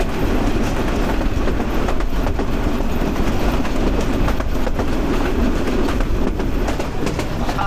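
Dinajpur commuter train rolling toward Radhikapur, a loud continuous rumble of wheels on rails with rhythmic clickety-clack heard from on board, steady throughout.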